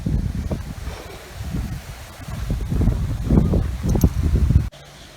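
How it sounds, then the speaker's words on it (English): Steady gusty wind at Tybee Island beach, Georgia, roars across the microphone with rustling buffets rising and falling, then cuts off abruptly near the end. "Really windy now."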